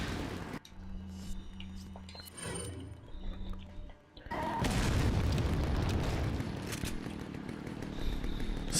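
Heavy booming blasts from grenades in the video game Resident Evil 4, Japanese Biohazard 4 version, starting with a sharp burst and swelling into a loud, sustained rumbling roar through most of the stretch, with no talk.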